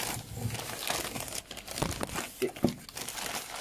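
A taped trading card pack is torn open with crinkling, crunching wrapper noises and sharper ripping bursts near the end, heard up close in a small room.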